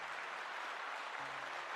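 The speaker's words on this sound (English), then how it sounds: "let's give Sponge a big old round of applause" Applause from a live-stream audience or crowd for a reviewed D&D homebrew submission, a steady broadband clapping wash at moderate level lasting the whole short stretch with no talk over it.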